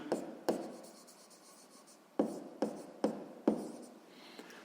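Pen strokes on paper as a maths solution is written out by hand, a soft close scratching broken by several sharp taps and pauses, with no one talking.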